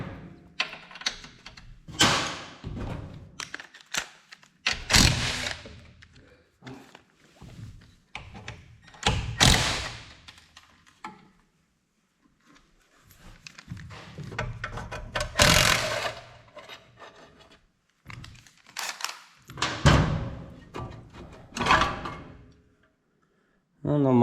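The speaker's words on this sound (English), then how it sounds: "So I'll pop this recoil off first." Someone takes the recoil starter off a vintage 1955 Firestone push mower, making intermittent metallic clanks, clicks and thunks with quiet pauses between them. A voice talks now and then.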